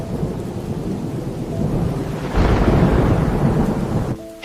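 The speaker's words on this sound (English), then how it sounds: "This storm looks serious." Heavy rain pours steadily in a thunderstorm, a dense, loud hiss that swells into a deep rumble of thunder midway before easing off near the end.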